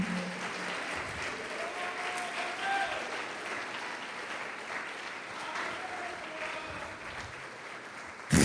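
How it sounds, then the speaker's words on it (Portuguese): Steady applause from a church congregation during a sermon, a dense wash of clapping that holds evenly throughout, with a sharp louder burst right at the end. "Pode aplaudir o Senhor Jesus e glorificá-lo."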